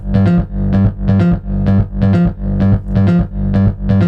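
Driven Nexus synth bass run through delay and cabinet effects, pumping in a steady repeating pattern of about eight loud, distorted hits with a heavy low end, alone and up front.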